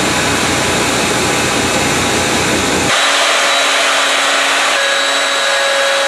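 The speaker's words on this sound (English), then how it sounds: "Next step is to take it over to the sander" Electric sander shaping the body of a handmade electric violin, a loud steady whine that drops to a higher, thinner running tone partway through as the load changes, with no talking.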